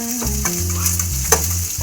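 Whole bay leaves, whole garam masala, dried red chilies and ginger paste sizzle in hot oil in a pan, a steady bright hiss throughout with a low tonal hum underneath.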